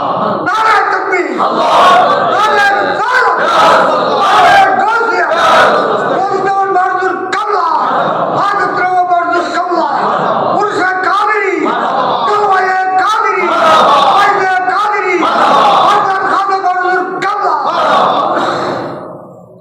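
Large crowd at an Islamic fatiha and milad gathering roars a loud, sustained chant of Allahu Akbar in reply to a takbir call, voices massed and echoing continuously with rhythmic surges.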